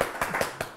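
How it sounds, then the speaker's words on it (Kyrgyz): A few quick hand claps on a TV quiz show, three or four sharp separate slaps over under a second, fairly soft and close. "кол чабуулар"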